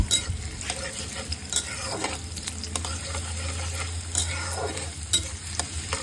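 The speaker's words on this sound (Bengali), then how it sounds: "তাতে পেঁয়াজ কুচি দিয়ে হালকা নাড়াচাড়া করব" Chopped onion fries in cooking oil in a wok, giving a soft continuous sizzle broken by scraping stirs and occasional light clinks of a utensil, with no talking.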